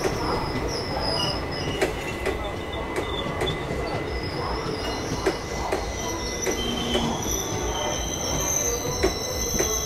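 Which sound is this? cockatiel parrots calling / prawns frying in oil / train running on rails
train running on rails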